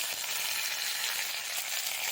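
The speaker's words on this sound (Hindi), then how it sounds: "यहीं पे हम डाल देते हैं मिर्ची की पत्ती और" Whole chilies hit a hot pan for a mild sambar, giving a steady, bright oil sizzle that stays even and close throughout with no voices.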